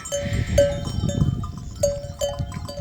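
Sheep and their lambs on a farm, with several ringing bells sounding in repeated clanks over a low murmur of the flock, a bleat or two mixed in, near and fairly quiet.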